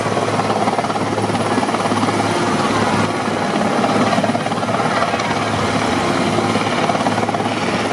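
A military helicopter hovers steadily during a commando roping operation, its rotor and engine producing a loud, continuous roar throughout with no pauses.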